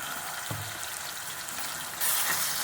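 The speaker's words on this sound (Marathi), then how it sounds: "चांगलं परतून घेऊया" A soft, steady sizzle of onion and tomato frying in oil with a paste of ginger, garlic, green chili and coriander, for a mutton palak rassa. It is faint and close, with a brief louder hiss near the end and no speech.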